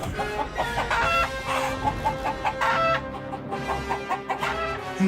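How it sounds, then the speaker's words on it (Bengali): Black hens cluck repeatedly, loud and close, in a busy overlapping run with a rooster-like call mixed in, used as a sound effect in a ghost story. "তিনটে কালো মুরগি বেরিয়ে ছুটল ঘরের ভেতর।"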